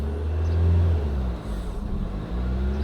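Car engine with a faulty clutch that catches intermittently, revving in a low, uneven drone that surges, dips briefly and climbs again, heard close with no talk.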